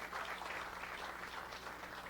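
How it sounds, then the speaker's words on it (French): A church congregation clapping together, a distant, faint, continuous wash of applause filling the space. "Clap your hands for Jesus Christ."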